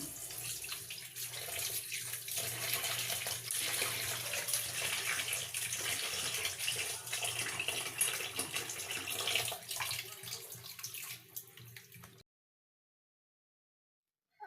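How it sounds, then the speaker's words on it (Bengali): Small fish being washed by hand under a running kitchen tap, water splashing steadily into a sink at close range for about twelve seconds before stopping abruptly. "এখন আমি মাছগুলো ধুয়ে নিব"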